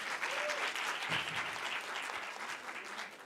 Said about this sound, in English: A big round of applause to her, please.